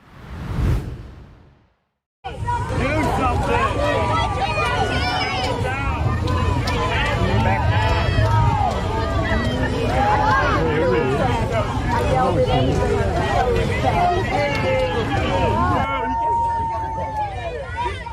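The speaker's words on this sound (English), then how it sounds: "that audio you hear right there is Biden being booed while visiting Texas this week" A large crowd booing Joe Biden during his visit to Texas: a loud, continuous wash of jeering voices and babble that holds steady for many seconds after a brief quiet start.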